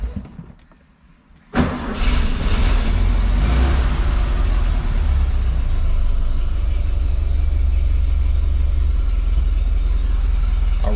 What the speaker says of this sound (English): key in the on position, and we'll even start the car